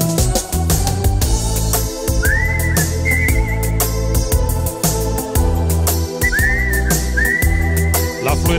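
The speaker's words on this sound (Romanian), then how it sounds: "Fluierat" Melodic whistling rises in short phrases over a loud, steady Romanian romantic pop backing track with rhythmic beats, the whistled tune clearly on top of the music.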